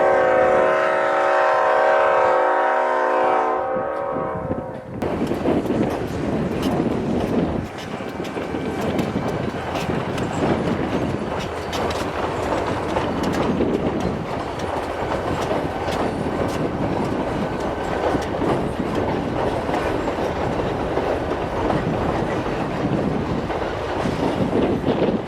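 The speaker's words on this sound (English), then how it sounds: "I finally hear that wonderful RS5T one last time as the train prepares to cross the frozen Snake River" An RS5T diesel locomotive horn sounds loudly, then the train rumbles past with heavy clattering of wheels on rails, continuous and close, approaching the frozen Snake River crossing in Pine City.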